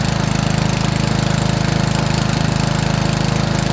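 A homemade outboard boat motor running at full throttle on the water, a loud, steady, fast-pulsing engine drone close by with no pauses.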